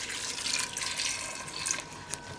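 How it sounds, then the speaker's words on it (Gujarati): A short, steady hiss of water being poured into a pressure cooker holding ivy gourds and whole tomatoes, fairly quiet and continuous with one small splash near the end. "થોડુંક પાણી નાખીશું આમાં આપણે,"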